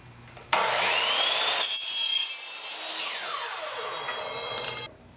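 A saw cutting through PVC pipe to make 3-foot sections for a gaga ball pit: a loud, close, sustained rasping cut that starts abruptly, briefly dips, continues more softly, then stops.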